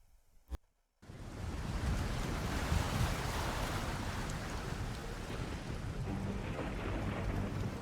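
Big waves and a storm at sea from the game Fate/Grand Order roar in as a dense, continuous rumbling wash of surf and wind, starting abruptly after a brief quiet moment and staying loud throughout, with no talking.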